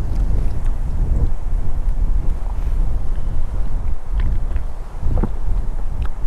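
Strong wind blows outdoors by a lake in Småland, a constant loud rumbling buffet against the microphone that runs the full length with a few faint knocks and bumps underneath.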